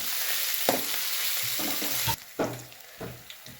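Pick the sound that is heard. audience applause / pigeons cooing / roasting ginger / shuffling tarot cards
roasting ginger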